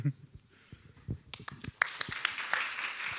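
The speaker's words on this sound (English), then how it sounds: "applause for all of you" Applause from a round-table conference audience beginning partway through, building from sparse claps into steady clapping, moderately distant, following a voice at the start.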